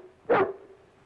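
A single sharp dog bark, close and loud, in an old 1936 comedy film, followed by quiet room tone.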